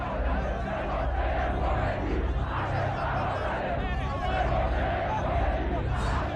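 A dense crowd of protesters during the Iranian revolution fills the scene with a continuous roar of shouting and chanting voices, loud and steady throughout with no break.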